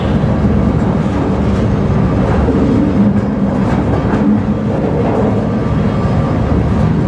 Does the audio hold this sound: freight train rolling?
yes